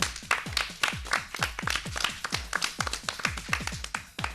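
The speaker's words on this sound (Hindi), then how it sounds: "ये तो एक बार टीम सी के लिए जोरदार तालियां" Brisk rhythmic clapping greets the winning quiz team at a children's programme, a string of sharp, evenly spaced claps close by with no talk over them.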